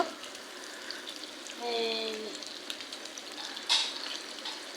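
Onions and green chilies fry in oil in a wok with a steady, close sizzling hiss, a brief clatter near the end.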